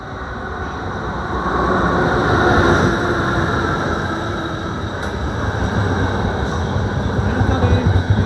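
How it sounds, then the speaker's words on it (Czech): A train rumbles into the station at Olomouc, Czech Republic, from a distance, a broad roar swelling and holding steady with faint squeals on the rails. "Je tady můj vlak"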